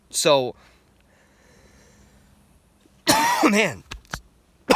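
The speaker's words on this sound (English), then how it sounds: "these allergy coughs are bad." Two harsh allergy coughs, one at the start and another after a quiet pause, followed by a short throaty burst, close and loud.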